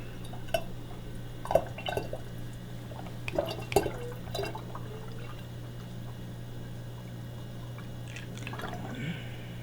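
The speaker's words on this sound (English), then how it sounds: "he's about to pour this shit through the funnel" Mead mixture pours through a funnel, heard as faint, irregular splashes and drips with a few clinks against a steady low hum, quiet and close, with people barely audible.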